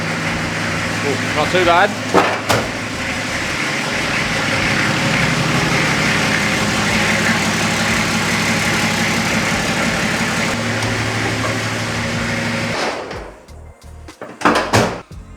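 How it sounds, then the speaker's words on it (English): A cold Nissan GQ Patrol engine fires up after years off the road and settles into a steady, loud, rumbling idle that holds for about ten seconds before cutting off, with a person speaking briefly near the end. "So it's going to be a bit of a cold start, but we'll see how well she starts on a cold start."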